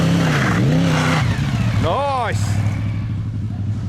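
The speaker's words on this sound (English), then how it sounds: "Kawasaki versus all the VFR, here we go." Kawasaki and Honda VFR motorcycles race, their engines revving and rising in pitch, with sweeping whines as they accelerate past close by, followed by a fading rumble; a voice speaks briefly.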